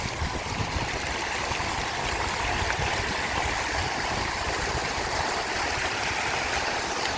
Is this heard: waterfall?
yes